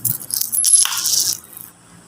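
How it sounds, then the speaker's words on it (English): Four coins flipped together and landing on a hard surface, a quick bright metallic clatter and jingle lasting about a second before ringing out, close and alone. "So I will flip all the 4 coins at the same time."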